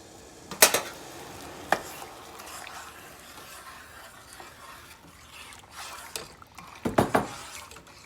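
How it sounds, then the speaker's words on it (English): Sugar stirred into dandelion jelly liquid in a pot, close by and fairly quiet: a few sharp clinks of a utensil against the pot at the start and a cluster near the end, with soft scraping in between. "she's going to dump that in and get it stirred and dissolved"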